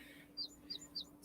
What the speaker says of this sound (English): I hear my phone because I hear the birds chirping.